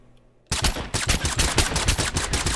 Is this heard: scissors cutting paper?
no